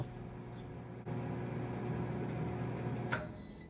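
Microwave oven running to dry damp chickpeas, a steady low electrical hum with a faint thump partway through, ending in a sharp high beeping tone near the end.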